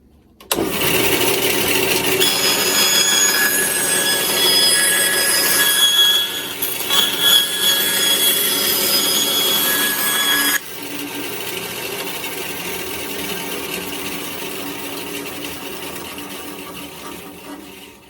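A bandsaw cuts through scrap plywood on a simple shop-built table with a fence, a loud steady whine with a shrill ringing edge, then dropping to a lighter free-running hum once the cut ends.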